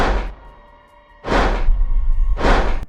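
Heavy stomping footsteps from the Oppenheimer film soundtrack, three loud broadband thuds spaced roughly a second apart, each with a deep boom and a short decay, with a low rumble running underneath.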